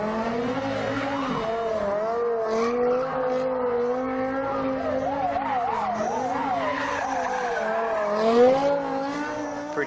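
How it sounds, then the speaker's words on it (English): Simulated car doing donuts in SOLIDWORKS Visualize, continuous loud tire skidding and squealing with wavering engine tone throughout, no talk. "Pretty cool to make your car do donuts, right?"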